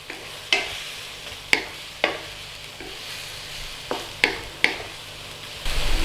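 Tomatoes and eggs stir-frying in a pan for Chinese scrambled eggs with tomatoes, with a steady close sizzle punctuated by several sharp scrapes and clacks of a spatula against the pan.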